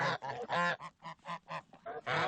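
Geese honk loudly and close by while eating feed, a quick series of about ten nasal calls in a ragged rhythm.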